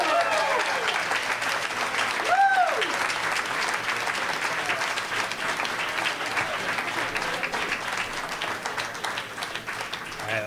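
A dense round of audience applause at a live local storytelling event, steady and full for the whole stretch, with a brief whoop rising above the clapping.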